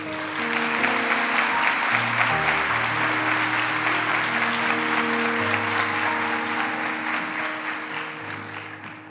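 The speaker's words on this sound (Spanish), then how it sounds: "Un aplauso para ella, por favor." Sustained audience applause fills a graduation ceremony hall at Universidad de La Sabana, steady and dense throughout with a low musical tone running underneath.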